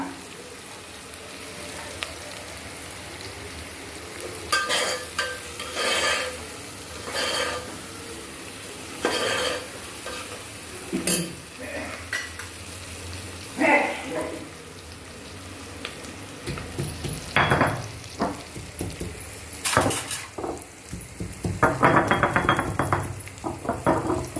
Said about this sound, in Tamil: வெங்காயம் நல்லா வதங்கணும் ஃப்ரெண்ட்ஸ் நல்லா வதங்கட்டும் ஃப்ரெண்ட்ஸ் வதங்கிட்டு இந்த பாருங்கள் வதங்கிட்டே இருக்குது